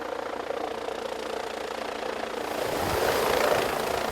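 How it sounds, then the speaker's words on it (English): A medevac helicopter near a hospital gives a steady, moderately faint rotor and engine drone that swells slightly toward the end. "the helicopter had to be landed at the hospital"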